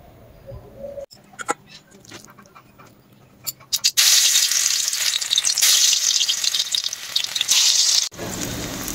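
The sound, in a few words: frying gram flour and rice flour fritters (bora)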